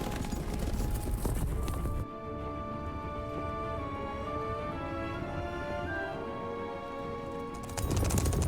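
Wild Hunt horses gallop in The Witcher 3 with steady hoof clatter under a sustained, swelling orchestral score, louder bursts at the start and end.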